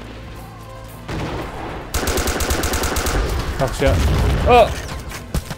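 Rapid automatic gunfire and booming shots from a multiplayer Joint Operations Typhoon Rising battle, loud and dense after a quieter start, with a player talking briefly over the shooting.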